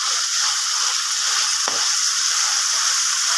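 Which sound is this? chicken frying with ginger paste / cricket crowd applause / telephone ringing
chicken frying with ginger paste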